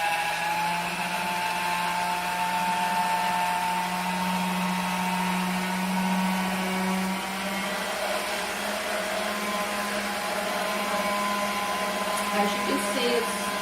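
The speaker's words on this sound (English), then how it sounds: "now I'm going to put the machine on a much narrower setting and run the pasta through again a couple of times" A motorized pasta machine rolls dough through a narrow setting, giving a steady mechanical whine and hum that holds throughout, with a few faint clicks near the end.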